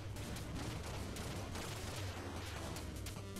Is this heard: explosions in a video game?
yes